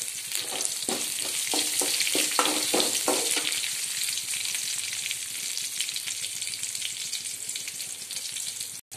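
Onions sizzle steadily in hot oil in a pan while avarakai (broad bean) poriyal is cooked, with a run of stirring scrapes early on and a constant close crackling hiss throughout, no talking.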